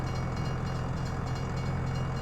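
A train passing in the video game Farming Simulator 22 makes a steady, loud rumble with rhythmic rail clatter throughout, and no voices are heard.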